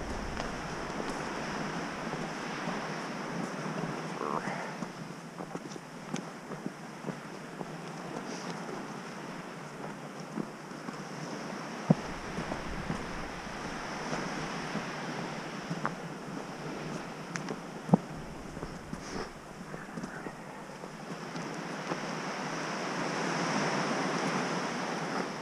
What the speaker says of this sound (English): you've got the waves crashing and smashing